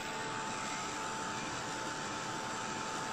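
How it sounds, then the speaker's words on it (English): Heat gun drying chalky finish paint on a mixed media journal cover, a steady, loud blowing roar that runs unbroken and close throughout, with no talk. "I hope you can hear me over the heat gun"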